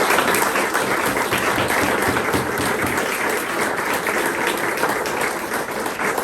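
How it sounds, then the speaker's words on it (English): Steady audience applause thanks a panel at a morning talk on recovery for families of addicted children, dense and sustained from start to finish with no pause. "Can we get a round of applause for our awesome panel?"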